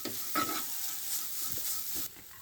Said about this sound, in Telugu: మసాలా వేసుకుని కొంచెం కలుపుకోవాలి. మొత్తం కలిసేటట్టు కలుపుకోవాలి